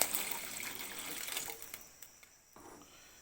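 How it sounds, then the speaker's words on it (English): Water poured into a pot of Maggi noodle curry, a short gushing splash that is loudest at the start and fades into faint trickles, with no talking. "put some water,"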